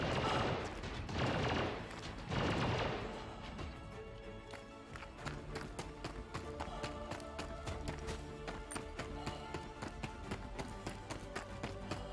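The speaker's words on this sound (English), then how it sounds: "turret's shooting at me now" A turret in a space combat video game fires at the player's Super Hornet ship, a fast run of sharp repeated shots after a couple of louder rumbling bursts. There is no talking.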